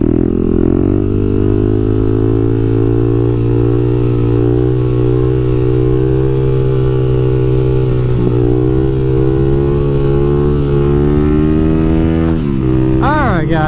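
A Kawasaki KLX300SM 300cc motorcycle cruises on a highway with a loud, steady engine drone and buzzing harmonics, plus constant wind rush, holding a nearly even pitch before a quick rev rise at the end.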